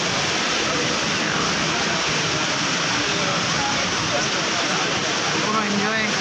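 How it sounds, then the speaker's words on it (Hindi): Water fountain spraying inside a shopping mall, a steady, loud broadband rush of falling and splashing water that fills the whole clip without pause. "इस पानी को मैं करीब से दिखाना चाहूँगा आपको किस तरीके से पानी उड़ रहा है"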